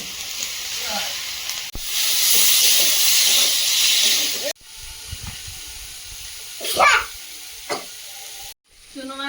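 Ridge gourd frying in a hot pan with ground turmeric and cumin, a loud broad sizzle that surges and drops as it is stirred, with occasional scraping and someone talking over it.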